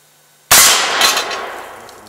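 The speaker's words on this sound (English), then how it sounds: "shooting NATO issue M855 green tip steel penetrator." A single NATO M855 green-tip 5.56x45 steel-penetrator rifle round is fired at a Level III steel rifle plate from 50 feet, giving one sharp, loud crack with a ringing impact that decays over about a second and a half.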